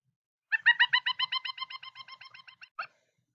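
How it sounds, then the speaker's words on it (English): A pileated woodpecker calling a rapid series of about fifteen loud, ringing, monkey-like notes that slowly fade, followed by one last note, clear and alone against a quiet background. "Here is the call of a pileated."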